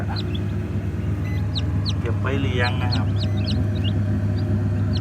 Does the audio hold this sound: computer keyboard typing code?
no